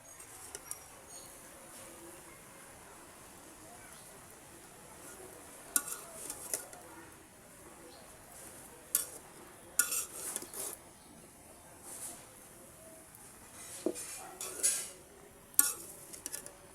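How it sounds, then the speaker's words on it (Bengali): Red amaranth greens with salt, stirred in a pot over a wood-fired stove: quiet, sparse clinks and scrapes of a utensil against the pot, spaced irregularly over a faint background with no talking. "লাল শাকটাকে আমি এখন নেড়ে দেব।"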